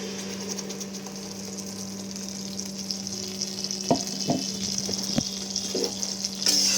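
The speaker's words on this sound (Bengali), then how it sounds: "এবারে এই তেলের মধ্যে আমি একটু গোটা গরম মশলা আর আগে থেকে টমেটো পেঁয়াজ আর কাঁচা লঙ্কার পেস্টটা দিয়ে দেবো" Whole garam masala and a tomato, onion and green chili paste frying in hot oil for a bhetki fish kalia, giving a steady close sizzle with occasional stirring clinks and pops and no talk.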